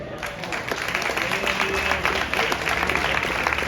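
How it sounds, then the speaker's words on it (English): A small press-conference crowd for a fight card announcement claps together in a brief, close burst of applause lasting a few seconds, fairly loud and uneven. "Please give yourself a round of applause"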